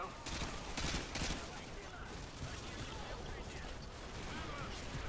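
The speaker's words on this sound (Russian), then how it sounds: "он нам в спину стреляет" Gunfire in Call of Duty Modern Warfare 2 rattles in faint, repeated bursts amid continuous battle noise throughout.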